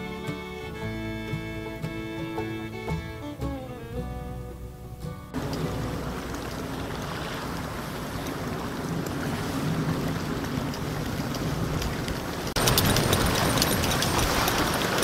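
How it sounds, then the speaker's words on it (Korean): Strong winter wind buffets the microphone at an eel fishing spot, a continuous rushing blast that grows harsher toward the end after a stretch of tonal sound at the start. "또 바람이 왜 이리 부냐."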